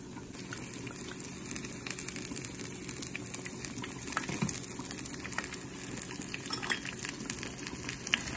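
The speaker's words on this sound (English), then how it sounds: "Put in the batter and fry." Battered plantain fritters (bhajji) sizzle in hot oil during deep frying. A constant, fairly quiet crackle of bubbling runs alone throughout.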